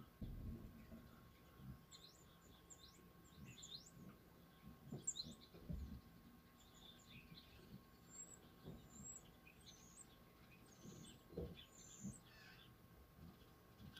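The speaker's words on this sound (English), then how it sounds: "I think that's just regular birds" Faint, scattered bird chirps and short calls in the distance, with low rumbling background noise throughout.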